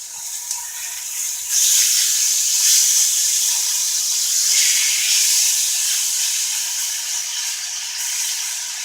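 Flank steak sizzling in a hot cast iron pan in an apartment kitchen, a loud, steady, close hiss that swells after the first moments and holds with little change throughout.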